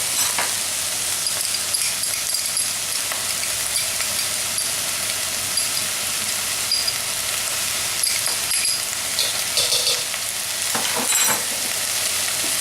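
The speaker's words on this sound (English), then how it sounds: "So I'm going to add in the garlic." Garlic sizzling and frying in a pan of browning bolognese mince, a steady loud crackle with occasional scraping stirs.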